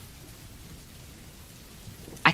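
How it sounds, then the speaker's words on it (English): Steady rain falls in a soft, even hiss with a low rumbling undertone, then a brief sharp crack near the end, with no one speaking. "Why is this lecture being recorded in a thunderstorm?"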